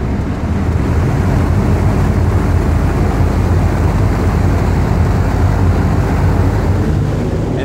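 A whole house attic fan on high runs at full speed in a loud, steady roar, constant and droning with heavy low rumble and no pauses.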